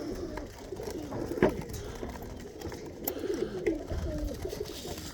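Tippler pigeons coo softly and continuously nearby, low murmuring calls overlapping at an even level throughout.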